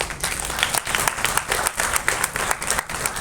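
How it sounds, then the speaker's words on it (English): An audience at a hospital event on robotic gynaecological surgery gives a round of applause, a steady mass of many hands clapping at moderate level throughout. "A round of applause."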